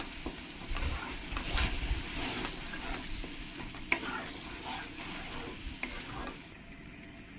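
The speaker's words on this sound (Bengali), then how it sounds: "এবার আমি এই পেস্টটা দিয়ে দেবো, টমেটো পেঁয়াজ বাদাম কাজু যেটা ফ্রাই করে পেস্ট করে নিয়েছি, ওই পেস্টটাই দিয়ে দেবো।" Tomato, onion, peanut and cashew paste frying and being stirred in a pan for paneer rajma, a steady sizzle with scraping stirring strokes, fairly close and without voices.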